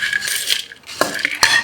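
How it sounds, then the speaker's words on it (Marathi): Girmit spice mix stirred through puffed rice for a Hubli street snack, heard as light scraping and a few sharp clinks of a spoon against a bowl, close and unaccompanied by talk. "मग आता हे पूर्ण कुरमुऱ्यामध्ये असं हलवायचं पूर्ण."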